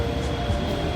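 A metro train in motion at Edappally station, a dense, continuous low rumble and rolling hum heard from inside, short and steady without talk.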